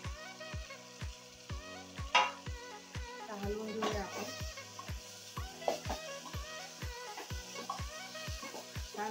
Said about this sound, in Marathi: आता आपण यामध्ये वांगे टाकून घेऊया.